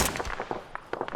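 Rapid, sharp gunshot cracks from the Arma 3 video game, a quick irregular string of close pops over about a second, with no talking.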